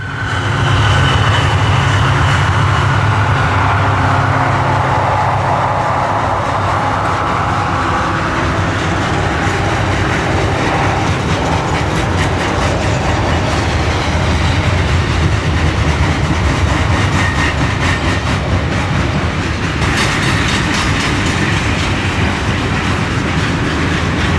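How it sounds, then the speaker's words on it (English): Long Conrail freight train of empty coal cars rolling downgrade around a sweeping curve on the west slope, a loud, steady rumble of wheels and cars passing close by with faint clatter throughout. "another long train of empty coal cars gliding downgrade around the sweeping curve"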